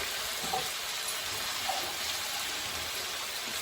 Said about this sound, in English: They said to add a little bit of water, so that's what I'm going to do.